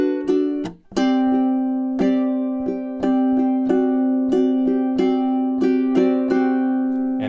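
Ukulele picks out measures 29 through 31 of a piece, a string of bright plucked notes and rolled chords in a steady, ringing rhythm, close and clear.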